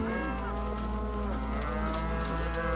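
Cows on a pasture farm mooing, a close, drawn-out low bellow with overlapping calls from the herd, heard alone over a steady background hum.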